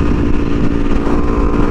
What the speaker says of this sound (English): It's a Ducati Monster S2r to 2006. Sounds good. It runs.